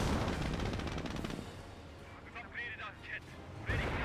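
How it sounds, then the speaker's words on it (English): Captured MG42 machine gun firing in Company of Heroes, a World War II strategy game: dense bursts of rapid gunfire up front, then quieter scattered battle noise with occasional shots and metallic whines, mixed with commentary. "get hit by the captured MG42"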